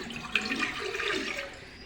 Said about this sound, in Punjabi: ਆਪਾਂ ਸਿਲਵਰ ਦਾ ਭਾਂਡਾ ਲੈ ਲਿਆ ਜੀ ਤੇ ਵਿੱਚ ਪਾਵਾਂਗੇ 1 ਗਲਾਸ ਪਾਣੀ